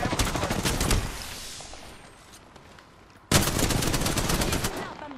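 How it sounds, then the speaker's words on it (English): Rapid video-game gunfire rattles loudly and close, trails off into a fading lull, then bursts back abruptly into another dense volley; no talk. "I'm getting shot at."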